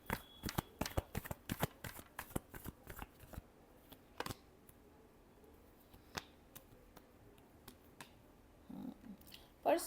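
Tarot cards are shuffled up close in a quick flurry of crisp riffling clicks during the first few seconds, followed by sparse taps and a quiet stretch.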